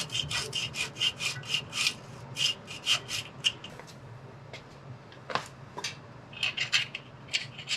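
A small pneumatic-tool sander belt worked by hand to clean out an early Ford V8 e-brake part: quiet bursts of quick, rhythmic scraping strokes with short pauses, no talking.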